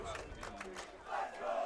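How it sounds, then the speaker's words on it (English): A packed stadium crowd at a high school football game chants and roars in rhythmic bursts, dense and echoing across the stands. "as the Let's Go Irish chant gets going"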